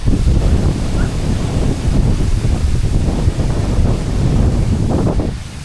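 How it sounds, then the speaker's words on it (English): Strong wind buffets the microphone steadily at the Wynnum waterfront in Brisbane, a loud continuous rumbling roar with a hint of surf in the background and no voices. "Oh, it's a bit windy"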